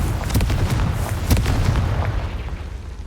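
Confringo fire-spell blasts in a wizard video game, a dense run of booming, crackling bursts over a steady rumbling bed, loud and close, with no voices.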